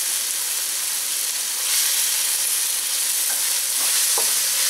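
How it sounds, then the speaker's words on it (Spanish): Diced tomato sautéing with ground beef in a hot pan for a meat soup, giving a steady broadband sizzle with a few brief stirring scrapes near the end, no talking. "Y vamos a sofreír este jitomate para que nuestro guisado quede riquísimo"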